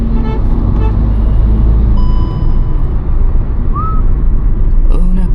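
Busy road traffic with a steady roar of passing cars and trucks, a clear short car horn toot cutting through midway and another honk near the end, loud and close, with faint talk underneath.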